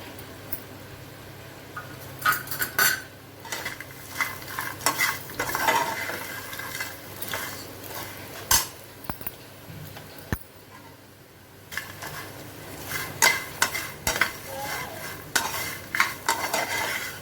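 Spicy mixed nuts dusted with chili powder and pepper, stirred in a pan while roasting. A dry, uneven crackle with scraping and clinking from the stirring utensil, close and moderately loud, with no voices.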